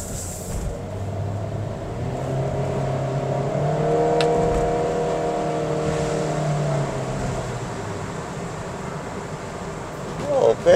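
A 2024 Honda Brio RS on a test drive, heard from inside the cabin as a steady engine and road hum that swells slightly mid-way, with a person talking over it.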